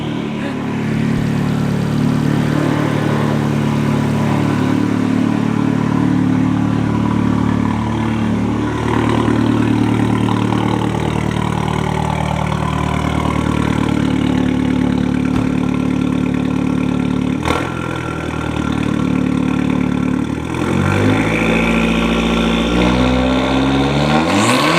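A car engine fitted with a newly installed downpipe idles loudly and steadily up close, with a brief blip near the end and a rising rev as it picks up toward the close.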